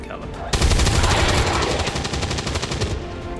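Rapid automatic cannon fire in the tactical war video game Small Unit Tactics, a sudden loud burst of closely spaced booming shots that keeps hammering for about three seconds before thinning out.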